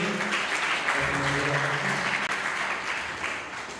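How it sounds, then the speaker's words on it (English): An audience at a live religious lecture claps together in a steady, fairly loud burst that holds evenly before easing off slightly at the end, with some low murmuring underneath. "just quick round of applause for Hari Parshad Prabhu"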